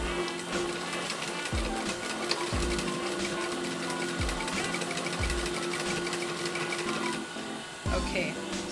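Sewing machine stitching fabric for a bishop sleeve, a steady fast running whir with repeated low thumps and short pauses, with someone talking over it throughout.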